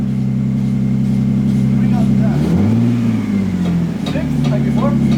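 A Lexus IS300 fitted with an HKS Carbon Ti exhaust and a large muffler revs once from idle, a subdued, close engine note rising and falling under voices.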